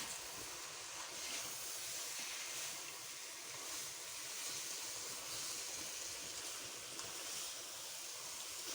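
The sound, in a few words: tempering (baghar) sizzling in carrot halwa pan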